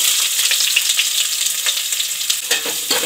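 Whole spices and finely chopped onions fry in hot oil for soya biryani, giving a steady, close, dense sizzle with scattered crackles and a few brief stirring scrapes, no voices.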